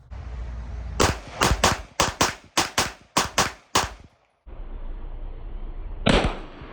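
A factory CZ 75 Shadow 2 9mm pistol fires about ten sharp, loud shots in a fast, fairly even string, each crack ringing briefly before the next, then the outdoor background resumes.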